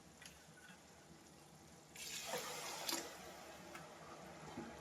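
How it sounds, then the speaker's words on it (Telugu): Water is poured into a simmering vakkaya and raw prawn curry in a pan, a faint splashing pour that starts suddenly after a quiet moment and then settles into a soft, low trickle. "ఇప్పుడు వాటర్ పోయాలండి."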